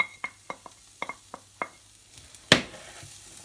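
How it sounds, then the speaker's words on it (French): Shallots drop into hot olive oil in a frying pan: a few light utensil taps, then a sudden loud hiss that settles into a softer, steady sizzle. "Dans la poêle, on met un petit peu d'huile d'olive et on laisse chauffer. On y rajoute les échalotes"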